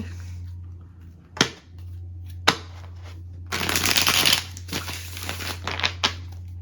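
Tarot cards being shuffled close up, with a couple of sharp single card snaps, then a dense burst of riffling and a few more flicks over a low steady hum, with no voices.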